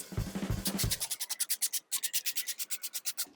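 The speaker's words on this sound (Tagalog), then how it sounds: "Tapos pupunasan natin ito para matanggal yung excess ng dumi." A wet screen is wiped by hand to clear off dirt, giving a steady run of rhythmic rubbing strokes, close and fairly loud, with a brief pause partway through.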